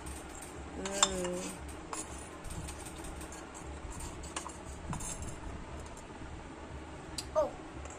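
Metal utensils and plates clink lightly as food is served onto plates during a children's toy cooking game, faint scattered taps and chinks under soft talk.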